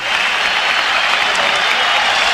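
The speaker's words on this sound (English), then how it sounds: "as the crowd starts to roar its approval, Fernando Valenzuela will be taken out of the ball game, and he gets a standing ovation" Baseball stadium crowd roaring and applauding in a standing ovation as pitcher Fernando Valenzuela leaves the game, a loud, dense and continuous wash of clapping and cheering.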